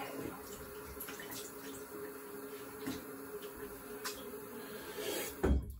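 A tap runs faintly and steadily while a modified Gold Dollar shaving razor is rinsed, a soft continuous wash of water.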